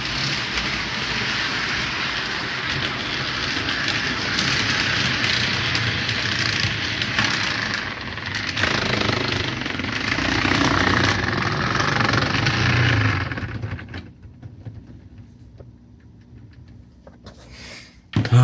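An HO-scale model locomotive running on track with its wheels slipping, a loud whirring rumble with rattling that carries for about thirteen seconds before cutting off abruptly, followed by faint clicks and near silence.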